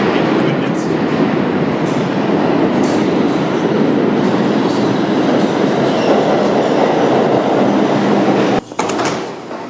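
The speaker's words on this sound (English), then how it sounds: "Here comes a normal train." A Bronx-bound 4 subway train roars in, a loud steady rumble and rattle of wheels filling the whole stretch, with a sudden sharp clatter near the end.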